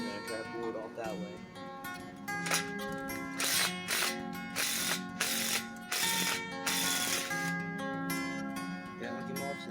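Ratcheting socket wrench tightening a nut during a turbocharged 3.8 engine build, a run of quick close metallic clicks in bursts over steady background hum and music.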